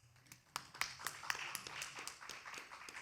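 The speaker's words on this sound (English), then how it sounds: "A big round of applause for each and everyone present here." Faint scattered applause from a small seated audience at a corporate cybersecurity talk, light irregular claps at a distance for a few seconds.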